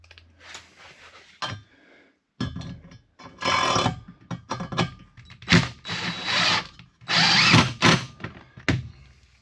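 A cordless power drill whirs in several short bursts, driving screws into an electrical box with pauses and clinks between each run, close by.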